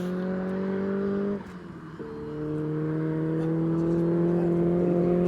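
A 400 bhp rear-wheel-drive Ford Fiesta RS engine holds a steady loud drone, drops briefly as if for a gear change, then climbs again in pitch under hard acceleration, close and with no talk.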